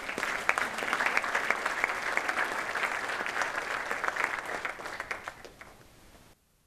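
A lecture audience at an educational evening talk breaks into warm, sustained applause, dense clapping holding steady for several seconds before tapering off and stopping abruptly.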